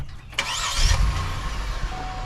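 A competition car with a VQ engine cranks briefly and fires up up close, catching with a loud surge before settling into a steady idle, with no talking over it.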